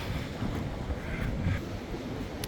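Cold wind gusting across a Baltic beach near Rozewie, a steady loud roar buffeting the microphone with surf washing faintly beneath it and no talking.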